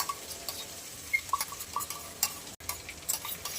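A spoon stirs okra and onions with yogurt and spice mix in a pan, giving soft scraping and clinking taps in an irregular rhythm, close and fairly quiet with no voice over it.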